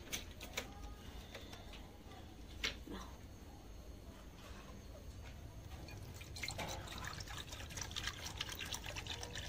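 Water poured from a clean bottle into a clay dish in a rabbit hutch, a faint trickle and drip with scattered small clinks against low background noise.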